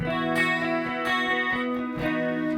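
A clean electric guitar through an ART SGX 2000 preamp rings out sustained chords, strummed a few times with bright, smooth tone and no audible talking.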